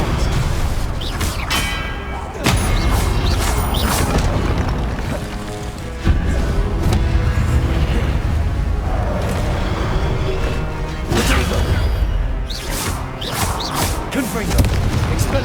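Confringo blast spells explode repeatedly in the Hogwarts Legacy game, with loud booming bursts and crashes under shouted spell incantations and busy combat noise throughout.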